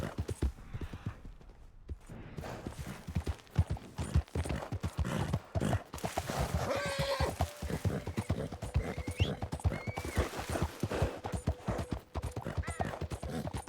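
Hooves clip-clop steadily on hard ground, close by, with a horse whinnying and snorting now and then over a busy background, in the video game Red Dead Redemption 2.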